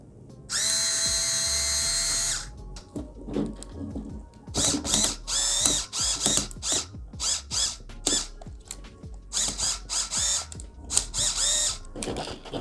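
A power drill drives long screws through the trusses of an RBRC C14 MKS RC truck kit, starting with one steady whir, then many quick stop-start bursts and small ratcheting clicks, close and loud.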